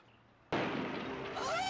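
A sudden explosion sound effect bursts in after a near-silent start, then a loud crackling, fireworks-like roar sustains to the end.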